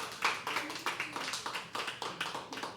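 A small audience at a live poetry open mic claps briefly and lightly, a quick scattered patter of hands that sounds faint and somewhat distant.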